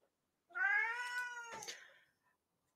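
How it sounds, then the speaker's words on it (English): A house cat lets out one long, clear, drawn-out meow close to the microphone. The call rises slightly and then fades, and the room is quiet around it. "Can I first apologise for my one cat, Toby?"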